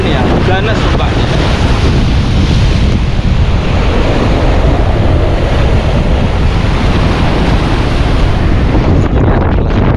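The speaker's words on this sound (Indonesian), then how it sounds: "Laut Merah Kota Jeddah memang ngeri-ngeri sedap ini ya, ganas ombaknya." Rough surf of the Red Sea at Jeddah crashing continuously and loudly, with heavy wind buffeting the microphone throughout and no voices.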